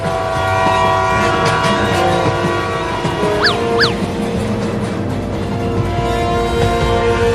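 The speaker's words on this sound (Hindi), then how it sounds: "देख ट्रेन धीरा हो रहा है" A cartoon train running along the rails, with a steady rolling rumble and clatter throughout and two short, loud horn blasts partway through as it slows down.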